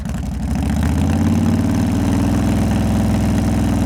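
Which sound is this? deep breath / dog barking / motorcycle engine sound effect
motorcycle engine sound effect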